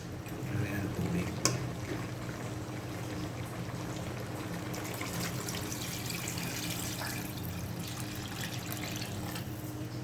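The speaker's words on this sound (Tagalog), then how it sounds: "Lagyan ng tubig." Water poured into a cooking pot while preparing chicken tinola, a steady continuous splashing stream that runs the whole time at moderate level, with a brief clink near the start.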